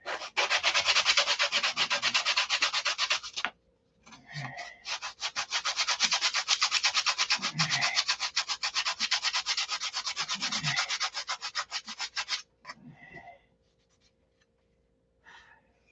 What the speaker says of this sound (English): I'll get this sanded